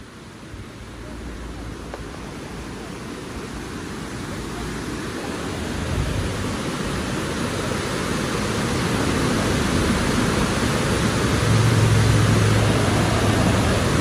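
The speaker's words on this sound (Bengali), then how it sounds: "একদম উপর থেকে ঝর্ণাটা" A waterfall in Nikko, Japan, roars as a steady broadband wash of rushing water, growing slightly louder and fuller over the stretch, with no voices.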